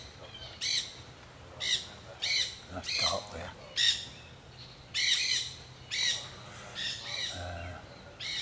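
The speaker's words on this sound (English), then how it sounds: "See those crows?" Crows give repeated harsh squawking caws at a coastal spot in Fort de Soto, Florida, about eight calls in uneven bursts at moderate distance, with someone talking quietly in between.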